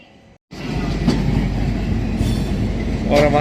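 Indian passenger train, the Saurashtra Mail Express, running on rails: a steady, loud rumbling roll with faint clickety-clack and occasional higher metallic squeals, heard from on board after a brief quieter start.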